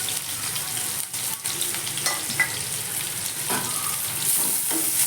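Chopped large onions sizzle steadily in hot oil, frying until golden for chilli chicken gravy, a close crackling hiss with occasional stirring scrapes.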